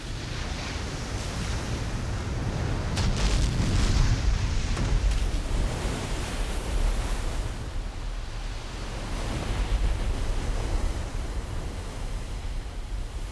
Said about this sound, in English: Ocean waves driven outward from fierce storm centers often travel for a week or more until they explode against the land